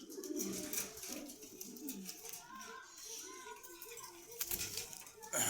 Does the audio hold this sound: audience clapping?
no